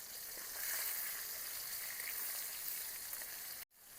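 Tangra fish and small prawns dropped into hot oil in a village-style kitchen pan, giving a steady, loud, close sizzle with crackling spatter that runs continuously, then briefly cuts out near the end.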